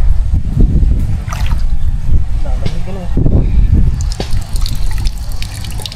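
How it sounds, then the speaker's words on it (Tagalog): Water leaks and splashes from a faucet, loud and continuous with dribbling and gushing surges, while people talk over it. "Tumagas na ang gripo."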